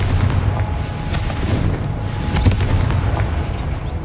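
A Confringo fire spell explodes in Hogwarts Legacy, a deep rumbling boom with crackling bursts that fills the whole short stretch at high volume.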